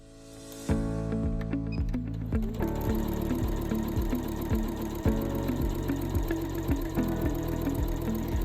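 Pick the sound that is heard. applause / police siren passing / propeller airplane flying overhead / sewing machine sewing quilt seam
sewing machine sewing quilt seam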